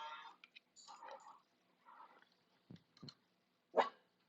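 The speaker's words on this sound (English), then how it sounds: "And the dog goes boof." A dog barks several times in short, uneven bursts, fairly close and clear, with a louder sharp bark near the end and quiet gaps between.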